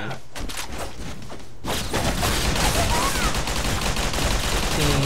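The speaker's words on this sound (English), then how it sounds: "I'm just gonna sit back and shoot." Sustained weapon fire in the GunZ 2 shooter game, a dense continuous fusillade that starts lighter and swells into heavy rapid shooting and impacts, loud and close.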